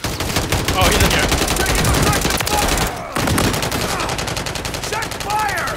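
Dense automatic gunfire in Call of Duty Warzone, loud sustained bursts of rapid shots filling nearly the whole stretch with one brief pause, with players' voices faintly mixed in.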